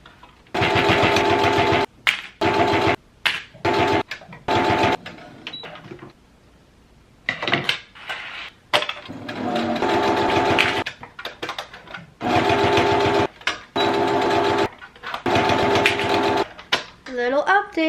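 A sewing machine stitches bookmarks in loud, rapid mechanical bursts, starting and stopping in several runs of a second or more with short pauses, close to the microphone; a few quiet gaps come between stretches of stitching.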